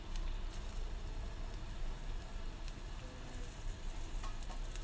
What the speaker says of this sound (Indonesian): Aku masukkan bawang putih, bawang merah, dan juga cabai rawit